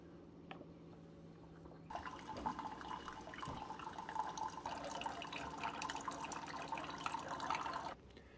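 A Walmart Great Value K-Cup coffee pod brews in a Keurig-style machine: after a quiet hum, a steady hissing, gurgling stream of liquid pours for several seconds and then cuts off abruptly.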